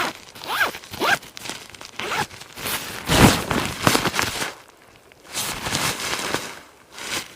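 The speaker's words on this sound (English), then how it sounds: "Let me zip it up." An empty ultralight hiking backpack is zipped up close by in several quick zipper strokes, short rasping pulls in bursts separated by brief pauses, with light fabric rustling between them.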